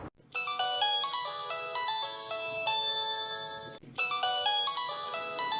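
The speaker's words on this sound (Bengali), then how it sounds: "কিরে তোর ফোন বাজতেছে, ফোন ধরস না কিন্তু?" A mobile phone ringtone plays a bright looping electronic melody of clear stepped tones, close and steady, restarting once after a brief break, with no voices over it.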